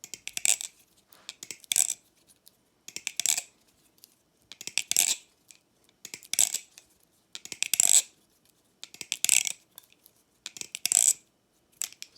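Nautilus butterfly knife with custom scales, blade heavy, flipped repeatedly: bright metallic clattering rattles in about eight quick bursts, evenly spaced with short gaps, close and clear, ringing with a semi-muted vibrating tone, no talk.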